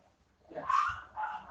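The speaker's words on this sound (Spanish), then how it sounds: "una pelea de perros y gatos oigo yo aquí" Dogs in a scuffle: two short, harsh barks or yelps, the first louder and the second weaker, fairly faint and over a quiet background.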